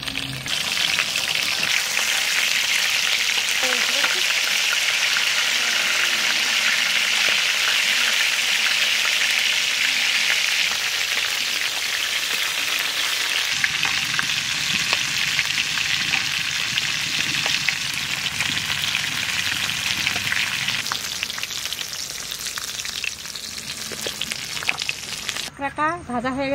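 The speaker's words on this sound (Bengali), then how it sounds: "একদম মশলা সমেত কাঁকড়া ভাজা" Crab frying with spices on a flat tawa over a wood fire outdoors, a loud continuous sizzle and crackle throughout, shifting in texture partway as the pan is stirred.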